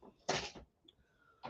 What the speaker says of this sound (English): can you shut my door, Keith?